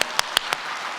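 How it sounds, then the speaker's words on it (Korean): Church audience clapping at a lecture, a short burst of a few loud, separate claps that quickly fade into quiet room tone. "우리 다시 박수!"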